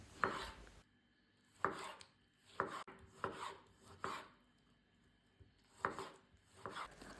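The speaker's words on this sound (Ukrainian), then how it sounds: "Беру два середніх помідора та нарізаю середніми шматками." A knife chops two medium tomatoes into medium pieces on a cutting board in several separate strokes, with short quiet gaps in between, close and clear.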